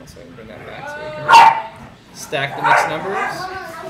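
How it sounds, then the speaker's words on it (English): Dogs bark a few times indoors in short bursts, most loudly near the middle, while a person keeps talking through the clip. "excuse the dogs"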